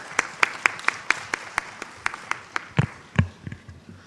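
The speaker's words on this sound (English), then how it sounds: "Please welcome them with a warm round of applause." A small audience at a collegiate research paper competition claps to welcome student presenters, with sparse, distinct handclaps at an uneven rhythm, fairly faint, thinning out over four seconds.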